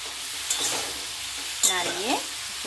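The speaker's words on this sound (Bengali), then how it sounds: "নুন আর হলুদ দিয়ে তাকে ভালো করে আবার নাড়িয়ে দেবো।" Pui shaak (Malabar spinach) and vegetables frying in a pan with salt and turmeric, stirred with a spatula: a steady close sizzle with a couple of scraping stir strokes and a brief squeak, and no speech.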